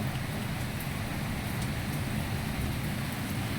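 Rain falls at night outside a small roadside sari-sari store, a steady, even hiss of drops on surfaces with a low background rumble and no talk.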